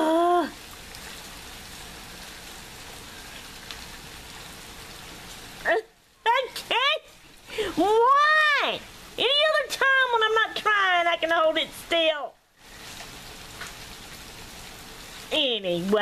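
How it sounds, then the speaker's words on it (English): Rain and hail fall steadily outside, a continuous hiss of drops heard throughout while a person talks loudly in bursts over it. "Anyway, it's a raining and it's a hailing."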